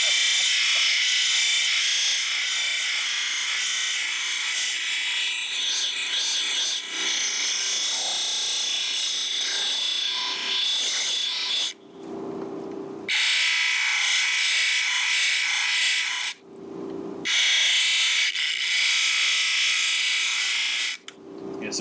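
Agate stone is ground against a 280 grit wheel, giving a steady, close hiss with rasping rubs, broken by a few short pauses where the stone is lifted from the wheel.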